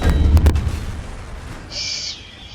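A heavy tank cannon fires in World of Tanks, a loud deep boom at the start followed by a rolling rumble and a high ringing tone as the blast fades.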